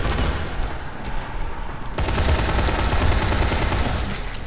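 Dense rapid gunfire from Dying Light, a loud continuous barrage that jumps to a harder, fuller volley midway and keeps hammering close up.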